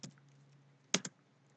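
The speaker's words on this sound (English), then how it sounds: "I'm going to start showing you by typing" A few quiet computer keyboard clicks, a single tap and then a quick double tap, over a low steady hum, while typing C# code.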